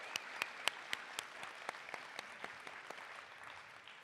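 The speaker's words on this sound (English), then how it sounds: "Let's give these folks another round of applause." Applause at a college commencement ceremony for adult education and high school equivalency graduates: a crowd claps steadily from a distance, with a few sharp nearer claps ringing out regularly above the soft, continuous wash of hands.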